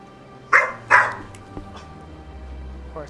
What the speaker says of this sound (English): Of course, the dogs start barking.